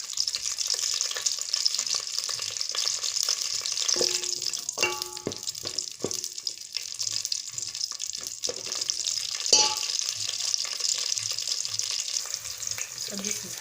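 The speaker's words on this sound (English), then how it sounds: "How to fry them with cooking oil till they are ready." Garden eggs fry in cooking oil with a steady, moderately loud crackling sizzle, punctuated by a few utensil clinks and scrapes against the pan.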